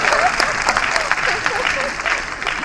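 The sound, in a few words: audience applause at a lecture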